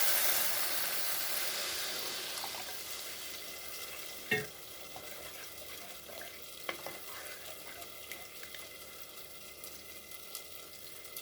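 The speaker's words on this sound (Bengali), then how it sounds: "এখন এর মধ্যে দিয়ে দেবো একটু জল।" Water poured into spice paste frying in oil for a Bengali dhokar dalna sizzles loudly at first, then settles into a steady hiss with a few clinks of a spoon against the pan.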